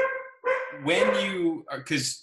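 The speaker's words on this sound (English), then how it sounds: "you might hear some dogs in the background, for which I apologize" Several dogs barking and yipping in short loud bursts close by, with someone speaking briefly over the barking.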